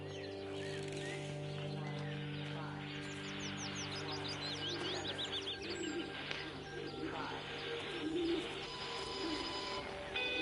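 Pigeons coo softly in a quiet rural scene in the game Everybody's Gone to the Rapture, their low repeated calls mixed with faint chirps over a steady soft ambient hum.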